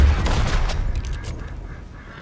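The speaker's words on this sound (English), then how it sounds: "Well, he started shooting me." Gunfire rings out in the western game Red Dead Redemption 2, a loud volley of booming shots up front trailing into echoing reports that fade out, with no talking.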